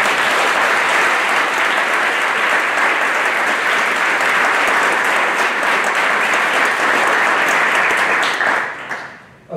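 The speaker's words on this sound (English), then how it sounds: "Give him a clap." An audience applauds at a lecture, giving a loud, sustained round of dense clapping that carries on strongly for several seconds before tapering off abruptly at the end.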